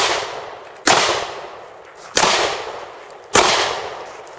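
Three loud, sharp gunshots fired at an outdoor shooting range during a handgun drill, evenly spaced about a second apart, each cracking hard and ringing off in a long fading echo.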